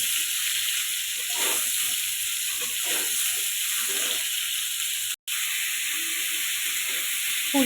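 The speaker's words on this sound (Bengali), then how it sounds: "ফুলকপিগুলো ভেজে নিব।" Cauliflower pieces fry in hot oil in a pan, giving a steady, close sizzle and hiss that holds level throughout with a brief break near the end.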